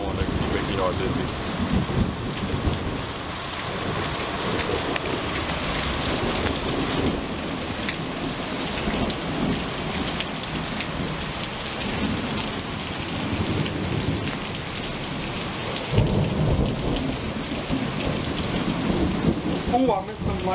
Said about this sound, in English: Got a nice thing of rain falling.